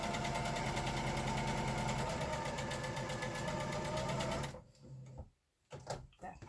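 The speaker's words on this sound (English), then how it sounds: "So I'm just going to chain stitch that directly over." A sewing machine chain stitches fabric squares for a tulip quilt block, giving a fast, steady, close mechanical whir that runs for about four and a half seconds and then stops, followed by faint handling noises.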